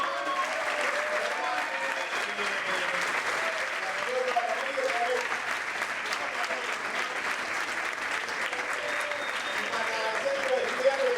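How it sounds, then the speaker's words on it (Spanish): A crowd at a student-center talk on sound effects claps continuously, a full, even wash of applause holding steady throughout with faint voices beneath. "Un fuerte aplauso para la gente del Centro de Estudiantes."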